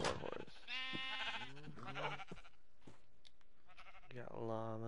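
Sheep bleat repeatedly in a PS4 farming game, several clear wavering cries spaced across the clip amid faint background game sound.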